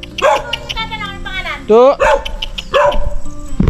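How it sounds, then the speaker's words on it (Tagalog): Multiple dogs barking and yelping on a muddy road, repeated sharp barks with a rising whine partway through, close and fairly loud, with people talking in the background. "Dami aso guys."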